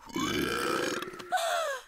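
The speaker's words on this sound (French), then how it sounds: "Ça, c'est du gargouillis" A cartoon stomach gurgles loudly for nearly two seconds as a long, bubbling, burp-like rumble, briefly dipping before a final rising gurgle, with no talking.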